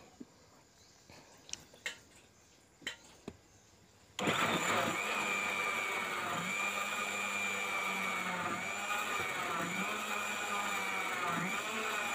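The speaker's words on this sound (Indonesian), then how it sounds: "Kemudian kita blender mie sampai halus seperti ini" After a few soft clicks and knocks, a blender motor kicks on and runs loudly and steadily, its whine shifting slightly as the banana mixture churns.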